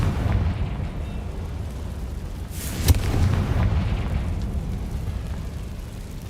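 A Confringo blasting spell explodes in Hogwarts Legacy, a single sharp crack over a steady rumbling ambience, followed by a dull, moderately loud burst that fades into the background.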